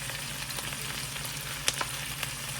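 Stir fry sizzling in olive oil and garlic, a steady broadband frying hiss with a few faint clicks of a utensil, close and even, with a low constant hum underneath.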